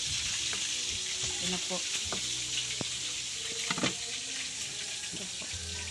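Ingredients sizzle and fry in a pan for fish escabeche with onion, ginger and garlic, a steady close crackle with clinks of stirring and a brief spoken aside over it.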